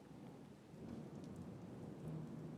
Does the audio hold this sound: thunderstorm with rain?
yes